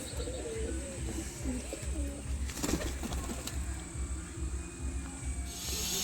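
Soft, low pigeon coos repeat in a steady rolling pattern, with occasional chirps and a brief flutter over a constant background hum.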